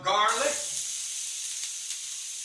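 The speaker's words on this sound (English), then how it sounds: "Okay, now we're gonna add the garlic, the onions," Garlic and onions dropped into hot sesame oil for pepper steak, a loud burst of sizzling that settles into a steady, bright frying hiss close by.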